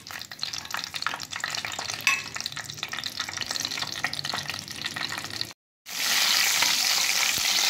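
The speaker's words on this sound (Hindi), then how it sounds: "ये मैं इसमें ज़ीरा 1 टीस्पून के करीब मैंने डाल दिया, और साथ ही हम डाल देंगे इसमें कड़ी पत्ते" About a teaspoon of cumin seeds and fresh curry leaves sizzle steadily in hot oil for Hyderabadi baingan, a dense close crackle that cuts out briefly and then returns louder and harsher.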